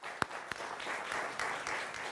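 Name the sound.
studio audience applause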